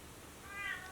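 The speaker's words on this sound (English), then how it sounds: "Forgive my cat if she's coming in loud." A house cat gives one faint, short meow in a quiet room.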